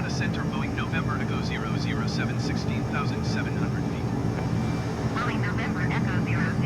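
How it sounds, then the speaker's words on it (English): A fighter jet's engine roars in afterburner in Microsoft Flight Simulator 2020, a loud, steady rumbling drone that fills the whole stretch while someone talks over it. "let's put her in afterburner"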